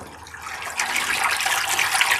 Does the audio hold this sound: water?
yes